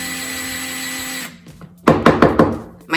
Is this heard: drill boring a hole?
yes